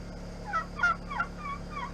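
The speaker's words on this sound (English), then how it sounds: "I can hear these turkeys standing out here calling for food" Turkeys outdoors gobble and call for food in a quick series of loud, nearby squawking bursts over a low background hum.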